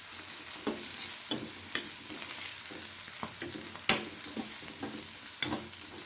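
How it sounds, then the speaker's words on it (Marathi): Carrots sautéing in hot oil for a village-style dry vegetable dish, with a steady crackling sizzle broken by sharp scraping stirs every second or so, close and fairly loud, with no talking. "असं तेलामध्ये गाजर पूर्ण भाजून घ्यायचं"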